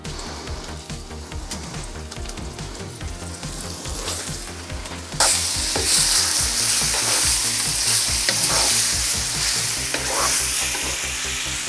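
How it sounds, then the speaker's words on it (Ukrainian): Loud, close sizzling of flour-coated pork frying in a hot pan with lard, with stirring and scraping; the sizzle jumps louder halfway through and stays intense. "М'ясо обвалюємо в борошні і смажимо до золотистої скоринки."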